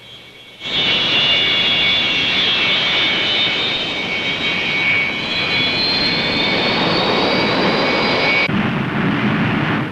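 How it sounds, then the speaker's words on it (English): A T-33 jet takes off alongside F-86 fighter jets, its engine roar swelling in loudly after a brief quieter start, then holding as a steady, close, powerful rush with a whining high tone until near the end. "in a T-33 jet taking off alongside with the F-86s"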